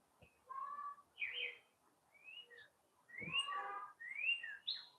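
Native birds singing outdoors, with clear whistled phrases and chirps in short bursts separated by pauses, fairly distant and quiet, with no talking.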